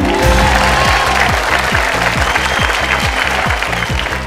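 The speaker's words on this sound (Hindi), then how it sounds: "ताली बज गई" Loud studio audience applause on a Bhojpuri quiz show after a correct answer, a dense wash of clapping layered with a rhythmic, repeating musical sting.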